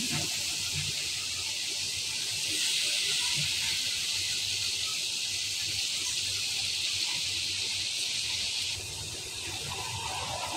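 Potatoes sizzle in hot oil in a pan alongside small fried khoilsha fish, a soft, even hiss that runs steadily at a low level with no voices.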